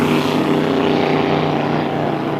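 Unlimited hydroplane racing boat at a speedboat race, its engine a loud, continuous droning roar that stays steady and dense throughout with no talk over it.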